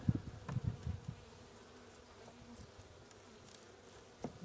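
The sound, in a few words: honeybees in a nuc beehive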